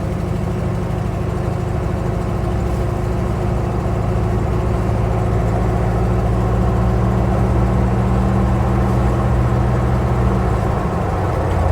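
A 1984 square-body truck engine runs loud and steady, pulling through second, third and fourth gear with a continuous low rumble and rising harmonic tones, close up with no talk over it.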